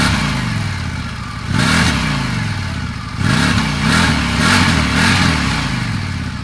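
A 2025 Indian Scout Bobber motorcycle with a restricted exhaust idles with a steady, gruff engine note, then revs up in two or three throttle blips, loud and close with no talk over it.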